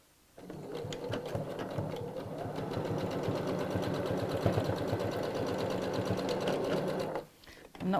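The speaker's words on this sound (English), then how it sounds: "then we'll sew straight across" A domestic sewing machine stitching straight across the corner of a fabric tote bag, a steady fast mechanical whirr with rapid needle ticking that runs for about seven seconds, then stops briefly and restarts.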